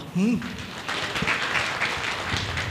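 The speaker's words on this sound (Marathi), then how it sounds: "सगळ्यात प्रथम त्यांच्यासाठी जोरात टाळ्या वाजवा" Applause from a crowd at a state-level business conference in Pune rises after a brief voice at the start, continuing as steady dense clapping throughout.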